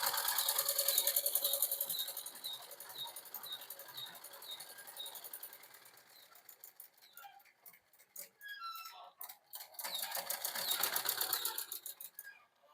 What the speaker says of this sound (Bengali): আবারও পেস্টিংয়ের পাশ দিয়ে আমাকে সেলাই করতে হবে।